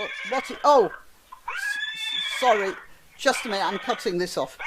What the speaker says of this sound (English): It has my horse neighing on it.